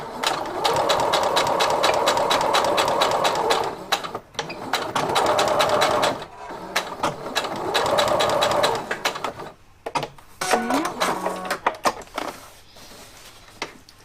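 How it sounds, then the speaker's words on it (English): A sewing machine stitches through fabric and leather in steady rapid bursts of several seconds each, close and loud, separated by short pauses, with quieter handling noises near the end. "out of the way so I can sew this straight all the way where it needs to end."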